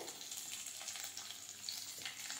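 Grated ginger and green chili dropped into hot oil, a soft, continuous sizzle with light crackle, close but faint, no talking.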